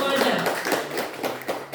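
Clapping from an audience at an Indonesian health quiz competition final, a short burst of irregular hand claps and taps with a voice heard alongside.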